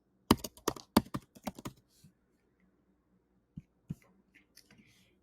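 Quick bursts of close keystrokes on a computer keyboard while a form is filled in, then a pause and a few scattered single key taps, with no talking.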